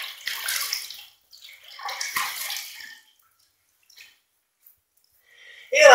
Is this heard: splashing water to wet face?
yes